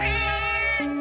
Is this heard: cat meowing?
yes